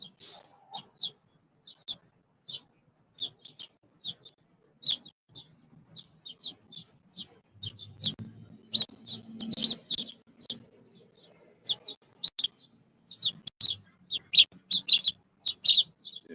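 Several small birds chirp and sing outdoors in short, repeated bursts through the whole stretch, fairly close, with a low rumble of background noise in the middle.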